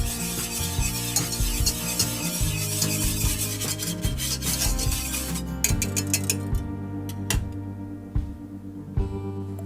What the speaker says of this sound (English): add a teaspoon of vanilla to the custard mix and just mix this